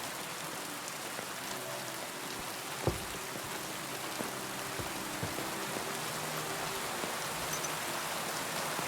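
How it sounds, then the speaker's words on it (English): Rain falls steadily in Kingdom Come: Deliverance II, a soft, even hiss of drops on surfaces, quiet and continuous, with an occasional faint knock or tap. "The rain is getting stronger."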